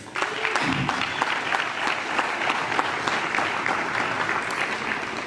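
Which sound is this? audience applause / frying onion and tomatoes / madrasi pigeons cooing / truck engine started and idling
audience applause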